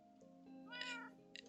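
A Minecraft cat meows once, a short clear in-game mew followed by a brief softer sound, heard alone over faint background hum.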